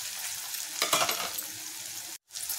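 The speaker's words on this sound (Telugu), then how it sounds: "స్టవ్ బాగా హైలో కాకుండా మీడియం ఫ్లేమ్లో పెట్టుకుని వేయించుకోవాలి" Brinjal and sweet potato fry in a pan over a medium flame with a steady close sizzle, swelling briefly as the pieces are stirred, then a sudden short gap before the sizzling resumes, with no talking.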